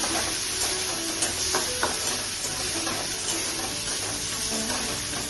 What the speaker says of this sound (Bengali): আদাটা দিচ্ছি। আদাটা দিয়ে দিলাম।